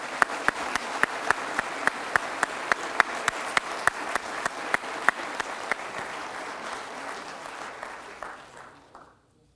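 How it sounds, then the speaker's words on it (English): Audience applause at a fire department pinning ceremony: steady, fairly distant clapping from a crowd, with a few sharp, close individual claps standing out at a regular beat, fading out at the end. "All right, let's give these guys a round of applause."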